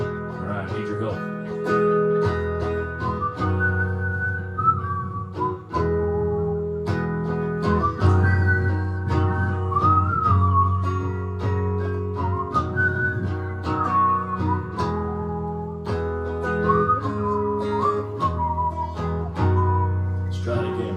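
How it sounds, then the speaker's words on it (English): A person whistles a wandering tune at an amateur comedy show in Portland, Oregon, the clear, steady melody carried over sustained low backing tones for the whole stretch, with no talking. "whistle a tune"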